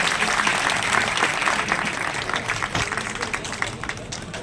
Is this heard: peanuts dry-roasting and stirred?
no